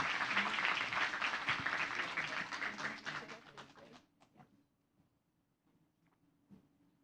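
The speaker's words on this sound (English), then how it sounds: "Please give a big round of applause to Jason Rebholz." Audience applause at a U.S. Embassy Jakarta event welcoming a speaker: a full crowd claps loudly for about four seconds, then fades out to near silence with a few scattered late claps.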